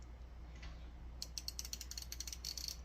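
A Craftsman 3/8 inch ratchet with a push button release clicking over in a quick, even run of small metallic ticks, close and fairly quiet, no talking.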